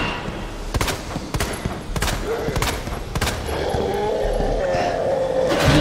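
Rapid volleys of gunfire in the Resident Evil 2 video game, a string of sharp loud shots in quick bursts followed by a steadier rumbling background.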